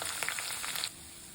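Cumin, mustard seeds and chopped ginger frying in hot oil give a soft crackling sizzle with scattered pops that quiets abruptly partway through, faint overall.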